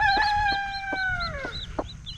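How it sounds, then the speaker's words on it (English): A rooster crows close by, one long drawn-out call, with clucking hens pecking and chattering underneath, at a farm chicken yard. "The one you hear crowing, he's the mean one sometimes."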